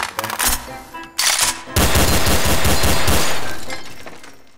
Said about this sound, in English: They can't see me, but I'm shooting them.